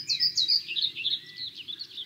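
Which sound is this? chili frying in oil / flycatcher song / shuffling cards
flycatcher song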